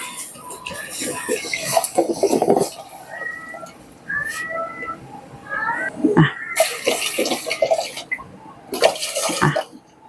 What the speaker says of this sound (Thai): เทน้ำลงไปน้ำค่ะ